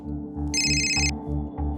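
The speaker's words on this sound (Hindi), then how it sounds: "जरा देख तो किसका फोन है।" A telephone rings at home, a repeating electronic ringtone with a steady low pulsing pattern and a brighter high tone layered over it, clear and close with no talk.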